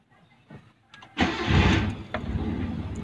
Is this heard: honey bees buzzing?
no